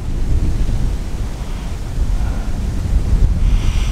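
Strong wind buffets the microphone on the shore of Lake Nocona in Texas during a cold front, a steady low roar with faint lapping water and no voices.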